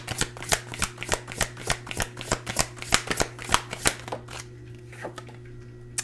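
Oracle cards being shuffled and drawn, a quick series of crisp, close flicks and riffles in an even rhythm that stops about four seconds in, leaving a low steady hum.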